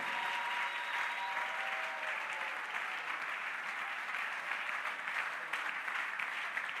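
A church congregation claps throughout a Sunday communion service, a steady, dense applause that fills the hall for several seconds.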